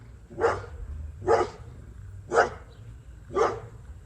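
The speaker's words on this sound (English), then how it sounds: "Sorry, my dog's barking." A dog barks four times at a steady, evenly spaced rhythm, loud and fairly close, with low background hum between barks.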